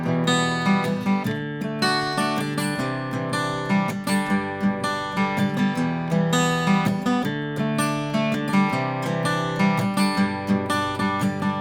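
Fingerpicked acoustic guitar chords, individual notes ringing out one after another in a flowing, even pattern, close and clear.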